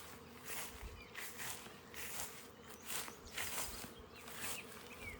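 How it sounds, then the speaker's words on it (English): A swarm of bees buzzes in a shady tree at a spring campground near Richland, Oregon, a faint, continuous hum with drifting swells and no talking. "I hear bees."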